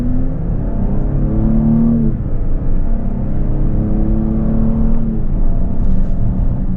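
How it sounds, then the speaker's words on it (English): A 2026 Lincoln Aviator Reserve's twin-turbo V6 pulls steadily in sport mode, its smooth engine hum climbing in pitch, easing through a shift near two seconds and rising again, heard from inside the cabin under constant road rumble. "Feather in the gas, new engine."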